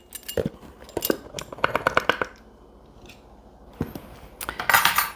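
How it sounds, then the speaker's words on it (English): A spoon stirs granulated sugar, cinnamon and salt in a bowl, giving bright, close clinks and scrapes in quick bursts separated by a brief pause. "take a tablespoon and a half of granulated sugar and mix it with a teaspoon of delicious cinnamon"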